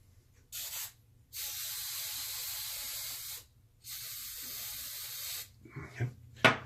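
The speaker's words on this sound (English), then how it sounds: "get a little bit of hairspray" Two long bursts of hairspray aimed at a beard, close and steady, separated by a short pause, followed by faint handling clicks.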